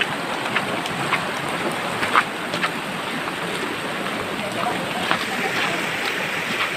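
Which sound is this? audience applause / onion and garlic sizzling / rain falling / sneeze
rain falling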